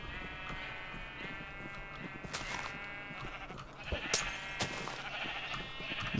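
Sheep in the video game Minecraft bleat in quiet, repeated wavering calls, a few overlapping bleats spread over several seconds against soft background game sound.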